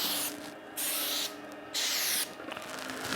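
Three short hissing bursts of aerosol glue activator spray, close up, separated by brief pauses.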